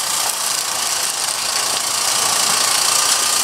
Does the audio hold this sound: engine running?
yes